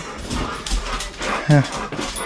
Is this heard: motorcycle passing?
no